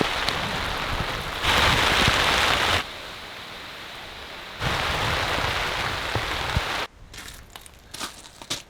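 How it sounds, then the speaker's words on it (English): Heavy rain pours down on open abandoned land where a house is being built, in loud steady bursts that swell and drop off several times, with patchier, thinner patter near the end. "It looks like a lot of rain is coming, so it's gonna be a fun day."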